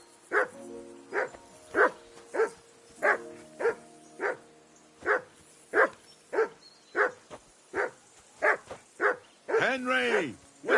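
A dog in Kingdom Come: Deliverance 2 barks repeatedly and steadily, about a dozen sharp barks at even intervals, ending in a longer, rougher howling bark up close.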